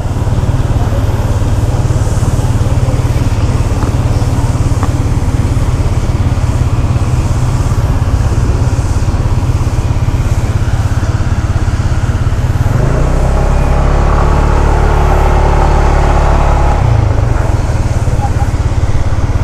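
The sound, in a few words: tractor mowing grass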